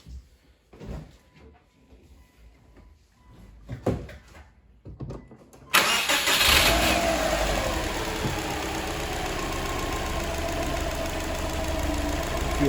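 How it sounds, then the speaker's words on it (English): A car engine is started before engine removal, with fuel and oil pressure being checked. A few clunks and taps come first, then the engine catches and settles into a loud, steady idle that continues to the end. "we'll go ahead and turn the car on and wait for the pressure to come down"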